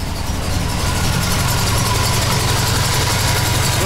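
Buick Grand National engine idling slightly rough, a loud, steady low rumble with a faint uneven pulse and vibration, close up and continuous with no talk.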